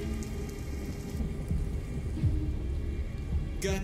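Thunderstorm ambience in the video game Detroit: Become Human: steady rain hissing across surfaces with low rolling thunder underneath and a brief sharper crack near the end.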